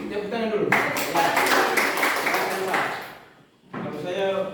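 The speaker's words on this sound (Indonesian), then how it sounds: "Tepuk tangan dulu." An audience at an indoor seminar gives a brief burst of clapping lasting a few seconds, mixed with voices, before it fades out and talking resumes.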